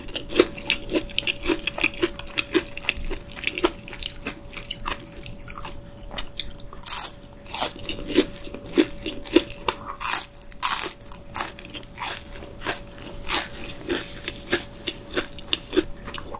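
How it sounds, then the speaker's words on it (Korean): Close, loud crunching and chewing of spicy rose-sauce braised chicken with Chinese glass noodles, with rhythmic bites and wet mastication repeating steadily throughout and no talking. "머리는 꼭꼭 씹어야 됩니다."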